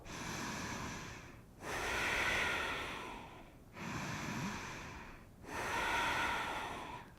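Slow, deep breathing during a yoga sequence: three long, steady breaths, each a soft airy rush with brief pauses between, close and quiet with no talking.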